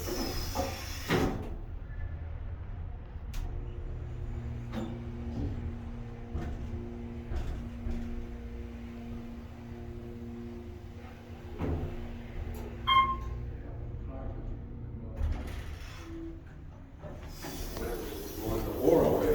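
An Otis Series 1 hydraulic elevator at a Las Vegas shopping center: a steady low motor hum runs throughout, with door rumbles and clunks at the start and end and a short chime partway through.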